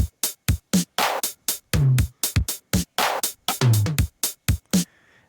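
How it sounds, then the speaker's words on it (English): A punchy 707 drum machine kit in Ableton Live plays a pattern of crisp hits and booming kicks in a steady rhythm, loud and dry, with no talking. "if I start with this cool sounding 707 Cannibals kit, it sounds like this"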